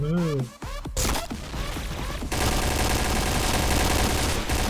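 Rapid automatic gunfire in the Point Blank shooter game, dense loud bursts of shots that grow continuous after a short opening where a voice is heard shouting.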